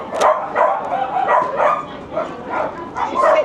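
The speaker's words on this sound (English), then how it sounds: "she's walking up and down, setting the small dogs off" Small dogs bark repeatedly at a passing greyhound, a string of sharp yaps and yips in quick bursts, fairly close and loud.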